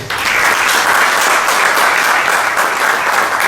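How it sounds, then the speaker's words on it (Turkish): Audience applause fills a gala of the Yeni Velayet 7 Vilayet short film festival in İnegöl, a dense, steady wash of many hands clapping together, loud and sustained throughout with no voices on top. "Sizleri başkanımız huzurunda İnegöl'e alkışlıyorum"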